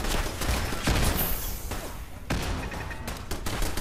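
Rapid gunfire from the video game Fallout 4, a dense barrage of overlapping shots and thuds running continuously and loudly throughout.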